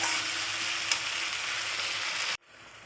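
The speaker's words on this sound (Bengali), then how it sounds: "এবারে ভালো করে আমি এই মশলাগুলো সব দিয়ে এবারে আমি ভালো করে কষিয়ে নেব।" Ground spices frying in hot oil for a banana flower dish, a close, steady sizzle with one brief clink, cutting off abruptly near the end to quiet room tone.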